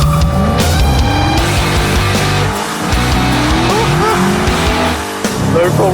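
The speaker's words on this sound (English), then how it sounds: "Burnout! For distance." A powerful car doing a burnout at a track, its engine roaring loud and steady with screeching tire squeal and skidding throughout, a voice heard over the noise.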